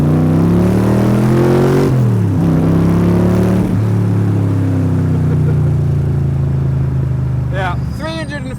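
A Cobra sports car with a 350 cubic inch engine making 350 brake horsepower accelerates hard, its loud engine note climbing steadily through the gears and settling into a sustained roar over several seconds, close and continuous.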